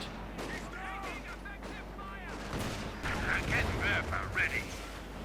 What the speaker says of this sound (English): Panther 4 strikes for Deutschland. Machine guns and main gun firing.